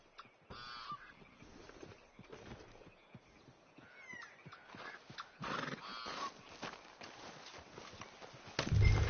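A horse in Red Dead Redemption 2 whinnies and its hooves clip-clop steadily at a middle distance over outdoor ambience, with other animal calls mixed in and no talking.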